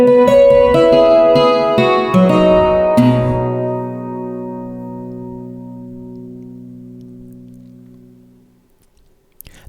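A custom cittern preset in ThumbJam, played from a D550 MIDI controller, gives a quick run of plucked, bright notes, then a final chord that rings out and slowly decays to silence over several seconds.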